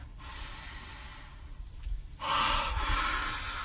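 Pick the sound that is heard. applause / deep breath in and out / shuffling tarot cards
deep breath in and out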